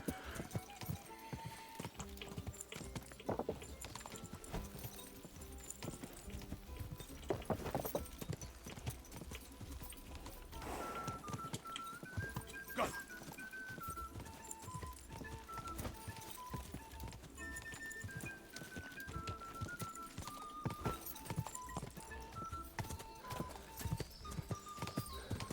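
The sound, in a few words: horse hooves galloping in video game Kingdom Come Deliverance 2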